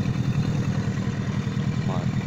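A small boat motor idles at low revs while trolling on a river, a steady low drone holding close and constant throughout.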